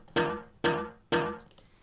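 A simple four-beat drum pattern programmed in FL Studio for a tech house track: three evenly spaced, punchy hits with bright decaying tails, loud and close, with no talk over them.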